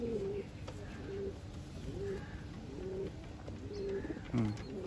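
Pigeons kept for sale coo repeatedly at a low volume, soft rhythmic calls recurring about once a second over a faint background hum.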